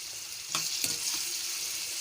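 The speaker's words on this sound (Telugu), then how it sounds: "ఉల్లిపాయలు బాగా వేగుతున్నాయి." Chopped onions frying in hot oil with green chillies for a tamarind-leaf fish curry, a steady close sizzle with a couple of brief stirring scrapes and no talking.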